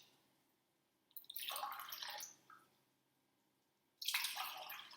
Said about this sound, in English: you have to be very careful when pouring the water into the cups